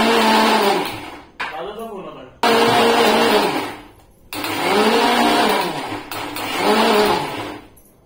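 A mixer grinder grinds roasted masala for stuffed brinjal in loud whirring bursts that start and stop several times, close up and overpowering the room.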